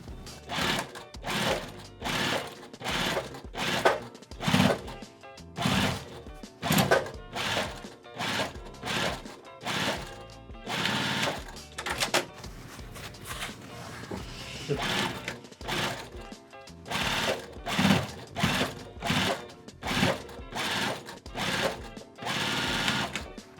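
A sewing machine stitches down a bag lining in repeated short bursts of rapid mechanical whirring separated by brief pauses, close and clear.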